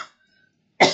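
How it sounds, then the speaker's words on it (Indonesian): A single sharp, loud cough bursts out near the end after a brief faint breath and near silence, close to the microphone. "maaf ya batuk"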